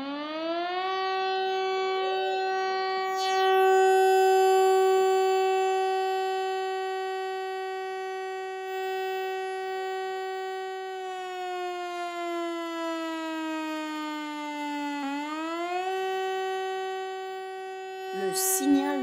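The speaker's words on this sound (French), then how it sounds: "Le signal national d'alerte, variation sur 3 cycles successifs." French national civil defense alert siren sounding its warning signal: one loud, sustained mechanical wail that holds steady, slowly sinks in pitch, then swoops back up before fading at the end.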